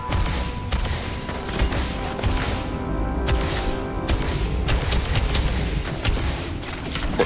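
Rapid bursts of game gunfire from a rifle in Starfield, loud and continuous with dense repeated shots and booming impacts throughout, brief lulls between volleys.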